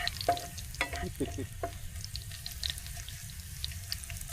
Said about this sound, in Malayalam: അപ്പോൾ അവിടെ വെളിച്ചെണ്ണ ഒക്കെ സെറ്റായിട്ടുണ്ട്. കുറച്ച് ഇതൊന്ന് ചൂടാവട്ടെ. ഇത് ഉള്ളി ഇടാം. കേട്ടോ എന്താ മൂപ്പ്.